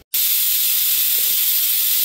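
Steam hissing from a pot of boiling potatoes, a constant bright airy hiss that starts abruptly and holds steady and fairly loud throughout.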